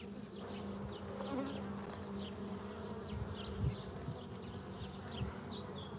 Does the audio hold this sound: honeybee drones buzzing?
yes